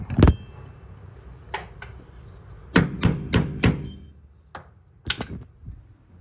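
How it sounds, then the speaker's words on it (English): Several sharp metallic hammer knocks driving a nut on during an OKA 251 rebuild, a single strike then a quick run of taps, followed by a few more spaced blows, close and alone. "I'll just have to knock that on with a hammer"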